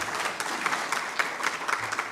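Audience at a university symposium on national transformation claps steadily, a moderately faint, even patter of many hands filling the room.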